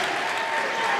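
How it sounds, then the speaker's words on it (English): A gym crowd at a high school boys basketball game between Taylorville and Charleston roars and claps after a three-pointer, a loud, dense wall of applause and cheering filling the whole moment. "Taylorville crowd fired up"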